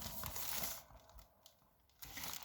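Crinkly rustling of packs of craft papers being handled up close, loud at the start and end with a quieter pause in between.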